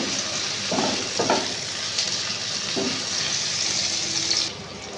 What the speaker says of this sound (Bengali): আগে টমেটোটাকে ভালো করে ভেজে নেব।